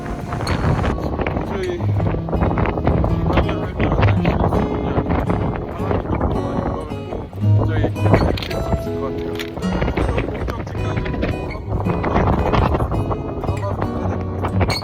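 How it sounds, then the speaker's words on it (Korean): Fierce wind on Jeju Island, strong enough that trees seem ready to snap, roars and buffets the microphone in a loud, continuous outdoor rush that never lets up. "밖으로 나오니 나무가 꺾일 듯이 바람이 불고 있습니다"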